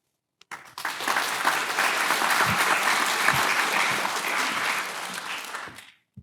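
Applause from a symposium audience after a series of speeches, rising quickly from silence into full steady clapping, holding for several seconds, then fading out near the end.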